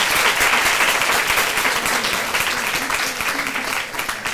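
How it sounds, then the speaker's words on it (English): A crowd at a debate claps steadily in a sustained round of applause for the speakers, dense and fairly loud, with a voice faintly audible underneath. "one more round of applause for all the speakers"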